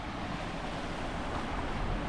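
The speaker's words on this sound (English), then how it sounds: "Waterfall's making a nice noise." A waterfall in a valley gives a steady, broadband rushing roar of flowing water, constant and fairly close, with no voices over it.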